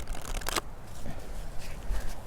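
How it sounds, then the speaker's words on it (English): An oracle card deck with laminated, gilded cards is shuffled close by, giving a soft papery riffle with one brief sharper burst of flicking cards, then a continuous quiet rustle. "Why don't we just shuffle?"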